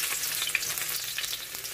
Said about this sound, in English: So the first thing we're going to do is we're going to saute the garlic.